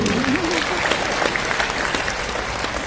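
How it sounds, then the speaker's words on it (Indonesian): An audience at a church gathering for a Valentine's celebration led by a Catholic priest applauds, a continuous wash of clapping from many hands, steady and moderately loud, with a voice briefly rising over it at the start. "Tepuk tangan, betul."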